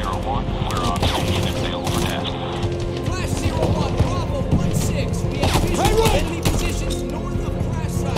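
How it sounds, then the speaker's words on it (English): Sustained machine gun fire and explosions rattle densely through Medal of Honor (2010) gameplay, loud and close, with someone talking over the battle. "that machine gun has to spin down"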